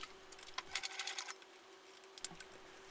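A sewing machine runs quickly along a seam in a gear repair, in faint rapid bursts of needle patter with a quiet pause in between.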